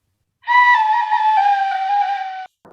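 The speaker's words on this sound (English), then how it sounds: "recorder sounds like this one here." A single sustained breathy recorder note, slightly wavering and dipping in pitch, held for about two seconds before cutting off cleanly.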